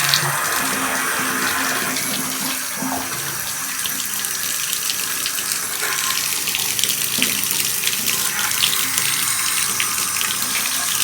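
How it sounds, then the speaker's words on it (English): Hot water running steadily from a shower faucet, a constant broad hiss and splash with no pauses, close and fairly loud. "So right now we have it on hot. Hopefully this produces hot water."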